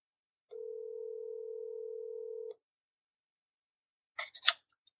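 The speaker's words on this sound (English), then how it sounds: "The phone is ringing." A single steady electronic telephone ring tone lasting about two seconds, followed by silence and then a few quick clicks.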